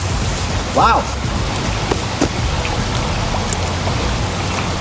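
Steady rain falling outdoors, a dense, even hiss of drops filling the whole clip, with a brief voice exclaiming over it near the start.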